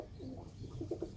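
Pigeons coo softly in a coop, with low, rolling calls repeating in short pulses over a faint background hum.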